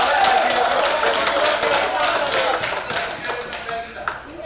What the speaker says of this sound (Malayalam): പ്രതിപക്ഷ അംഗങ്ങൾ എഴുന്നേറ്റ് നിന്ന് കൈയടിച്ചാണ് ഡെപ്യൂട്ടി മേയറുടെ വിമർശനത്തെ സ്വീകരിച്ചത്.